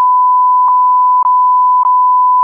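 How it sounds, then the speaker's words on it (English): A censor beep laid over speech: a steady 1 kHz tone running unbroken through the clip, with brief louder bursts where the muted words fall, alone and with no audible talk. "Now you actually put effort in this video by beeping all of this"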